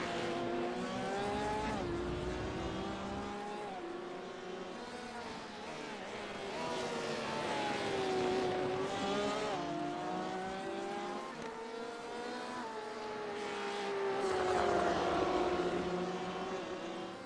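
Sim race cars at Road America in a video game drone and whine steadily through gear changes, engines rising and falling as they run close together under faint commentary.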